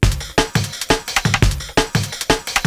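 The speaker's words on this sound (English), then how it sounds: "The jungle breakbeat that we just talked about sounds like this." Jungle breakbeat drum loop, fast and syncopated, with punchy kicks, cracking snares and bright cymbal wash repeating steadily, loud and alone.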